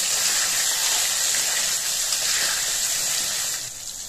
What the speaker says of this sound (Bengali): আলুগুলোকে একইভাবে লাল করে ভেজে নেব